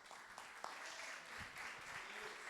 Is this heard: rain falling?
no